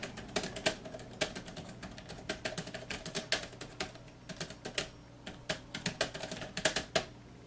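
Fingers type on a computer keyboard resting on a keyboard stand with a wrist rest, a quick uneven run of close, crisp key clicks and taps with brief pauses and no voices.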